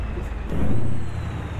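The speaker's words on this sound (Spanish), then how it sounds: "Escuchen, escuchen, estoy metiendo bien el embrague." Kenworth W900 truck pulling double trailers downhill through Urique Canyon in Chihuahua, Mexico, with the clutch engaged. A loud, close engine and drivetrain rumble swells in the middle and then eases off.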